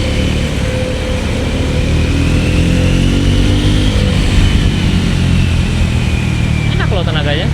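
A Triumph Scrambler 400 motorcycle engine drones loudly and steadily, its pitch rising as it accelerates to overtake, with a voice talking over it.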